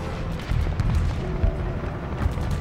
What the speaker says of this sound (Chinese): 可这么激烈的枪声，一定是他们的主力不同